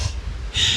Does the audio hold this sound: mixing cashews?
no